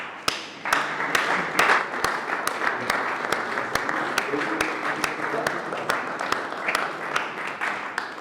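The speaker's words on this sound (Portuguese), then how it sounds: "peço uma salva de palmas" Applause at a Portuguese public talk about the 25th of April and local democracy, a moderate, continuous clapping from the audience marked by sharp individual claps over the whole stretch.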